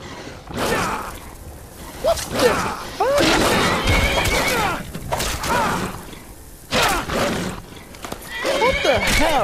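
Horse neighing and whinnying in the video game Skyrim, several loud whinnies with clip-clop hoofbeats and thuds, while someone talks over much of it.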